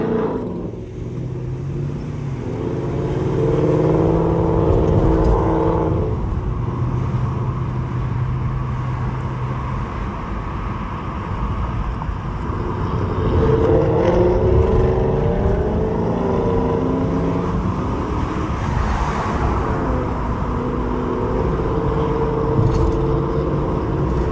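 A swapped second-generation Charger and a 5.0 Mustang drive through city streets, their engines droning loudly and continuously, rising and falling as the car accelerates and shifts.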